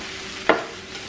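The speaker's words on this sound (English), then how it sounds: "My noodles are almost done. I like them to be crispy. So I'm gonna just keep letting them cook a little longer." Crispy noodles frying in a pan for Lao daht seen, with a brief stir or scrape over a steady sizzle that runs alone and close.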